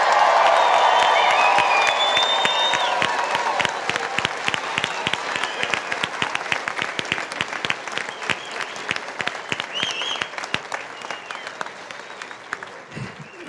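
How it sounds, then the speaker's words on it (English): Loud, dense applause from a large commencement crowd honoring graduates, with scattered cheers and whoops over steady clapping that gradually thins into individual claps toward the end. "give them even a louder round of applause"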